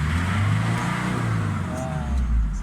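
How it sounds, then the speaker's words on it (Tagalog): Mitsubishi Adventure diesel engine with a 4D56 motor, revved hard but struggling to climb, a steady loud droning roar with rising engine tone close by, no talking. "Kahit galitin yung makina, hirap siyang umabot sa dos"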